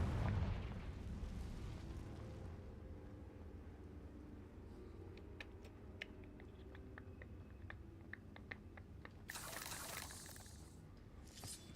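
Opening boom of a Confringo blasting spell in a Harry Potter video game, a heavy low explosion that fades into rumbling debris, scattered crackles and a brief hiss, with no talk.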